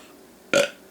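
A single short, loud burp in the middle of an otherwise quiet moment, lasting a fraction of a second.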